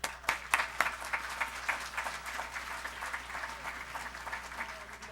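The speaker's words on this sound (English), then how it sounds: "How about a round of applause for them?" A crowd claps for a group of school students at an awards event, the applause steady and dense throughout with a few sharper, louder claps near the start.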